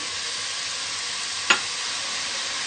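Green chillies tossed into turnip sabzi frying in a pan: a continuous soft sizzle with one brief sharp clatter or hiss burst as they hit the hot oil, close up and without talk.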